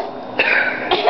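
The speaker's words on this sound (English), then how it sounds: "I gotta clear my throat" A single person clears their throat twice, close and fairly loud, with a short pause between the rough bursts.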